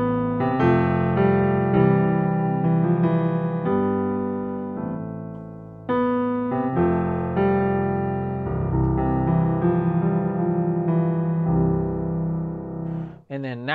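A virtual piano instrument using only its close microphones plays sustained chords and melodic notes, sounding very close and intimate with almost no room ambience, ending with a brief cutoff.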